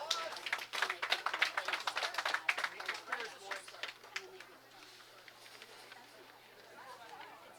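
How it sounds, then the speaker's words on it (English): A crowd claps at a youth under-21 doubles bowling championship match at a bowling alley: a burst of scattered applause and chatter that fades over several seconds into quiet room murmur. "Let's give them a round of applause."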